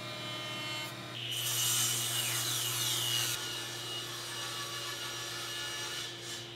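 A table saw rips hard maple shelf boards to final width, the blade's steady whine rising into a louder cutting roar for a couple of seconds, then settling back to an idling drone close by.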